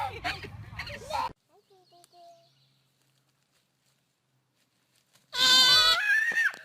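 Lamb bleating loudly and close, a wavering cry near the end after a quiet stretch, with people talking beforehand.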